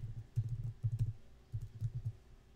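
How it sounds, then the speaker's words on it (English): Keys clatter on a computer keyboard as a website domain is typed, two quick bursts of close, soft clicks separated by a short pause, with no talking. "Here, you will type in the domain of your website."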